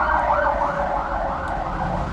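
An ambulance siren wails steadily and loudly without a break, with faint road traffic rumbling beneath it and no talk.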